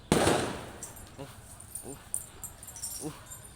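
A single sharp firecracker bang goes off nearby and rings out, followed by a few short barks spaced through the quiet after.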